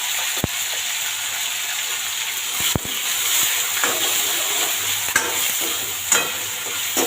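Masala spiced with a generous pinch of asafoetida fries in a pan with a steady, close sizzling hiss, broken by a few sharp clicks and scrapes of stirring.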